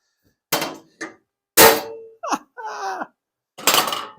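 Hammer blows on metal parts while assembling a table saw in a home shop: a few sharp, loud clangs and thunks spaced irregularly, mixed with brief metallic rattles and scrapes, close up with no talking.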